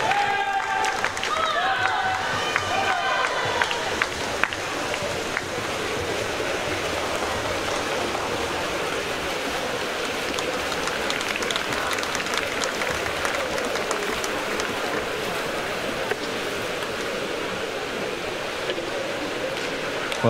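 Sustained applause from spectators at a winter swimming championship session after a race, a dense, steady wash of clapping at even loudness throughout, with pool-hall reverberation and a faint announcer's voice near the start.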